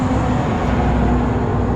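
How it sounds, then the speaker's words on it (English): A loud truck passes close by along a road near Rosarito, Mexico, its steady engine drone and rumble filling the moment without pause. "loud truck"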